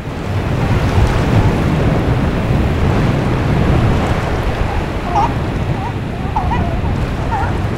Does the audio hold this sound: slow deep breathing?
no